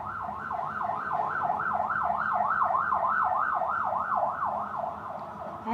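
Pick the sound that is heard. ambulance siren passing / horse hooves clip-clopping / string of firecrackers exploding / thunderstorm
ambulance siren passing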